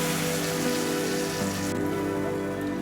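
Water poured onto chilies frying in oil in a pan makes a loud, continuous crackling sizzle that holds steady throughout, with no talking.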